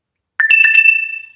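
A mobile phone's low-battery alert: a short electronic chime of a few quick tonal blips that settles into a brief steady bright tone, clear and alone.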